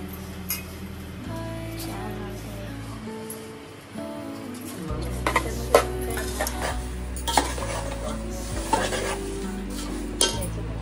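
Poha being stirred with sugar in a pan, a spatula scraping and knocking against the metal in uneven strokes, with louder clinks in the second half and faint voices in the background.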